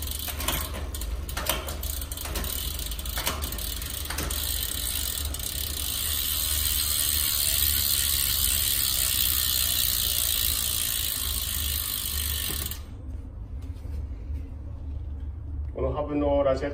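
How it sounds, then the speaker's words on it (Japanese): Rear hub freewheel ratchet on a handmade steel cyclocross bike with SRAM drivetrain buzzes in a rapid, continuous clicking for about twelve seconds, close and loud, then cuts off into quieter background with a brief voice near the end. "このハブのラジエットはこんな感じの音がします。"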